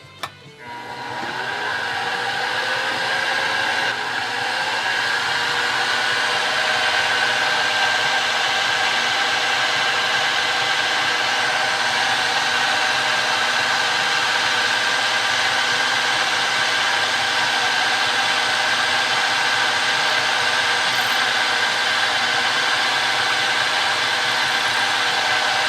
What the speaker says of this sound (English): Alright, that side's drilled.